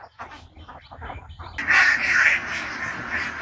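Ducks on a duck farm: scattered calls at first, then a dense burst of overlapping quacking from the flock that stays fairly loud and close to the end.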